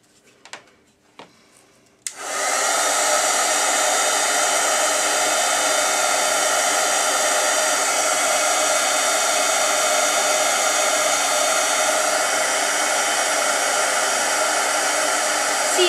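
A heat gun blows steadily to emboss a stamped scrapbook image, a loud continuous whooshing hum that starts abruptly after a few faint clicks and holds unbroken to the end.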